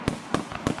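Fireworks exploding over a Christmas night celebration in Mount Isa, three loud, sharp booming bursts about a third of a second apart, each with a short crackling tail.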